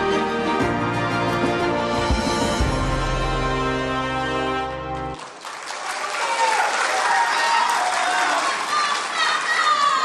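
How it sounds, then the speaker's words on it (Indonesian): After several seconds of music, the crowd at the 2024 Aceh gubernatorial public debate breaks into loud, sustained applause that fills the hall. "kita berikan tepuk tangan untuk seluruh pasangan calon, paslon nomor urut 1 dan paslon nomor urut 2"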